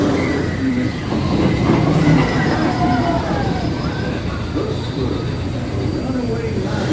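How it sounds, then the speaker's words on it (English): A runaway mine train roller coaster at a theme park rumbles past loudly and continuously, with rattling cars, clacking track and squealing wheels, while a narrated voice plays over the ride noise. "runaway mine train loaded down with simple-hearted, terror-filled folks like you."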